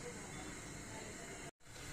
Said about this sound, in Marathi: इकडं आता पाणी उकळायला ठेवलेलं आहे